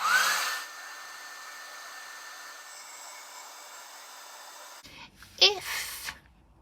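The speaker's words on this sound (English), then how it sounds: "use a hairdryer just to warm the gum" A hairdryer blows with a steady whooshing hum for several seconds while warming the gum of masking tape, then cuts off, leaving brief handling noises and a short voice.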